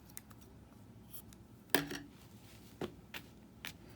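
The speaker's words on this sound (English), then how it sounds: "And then I'm going to cut it off." Scissors snip knitting yarn off a single-layer brimmed beanie, one sharp close cut followed by a few lighter clicks and rustles in a quiet room.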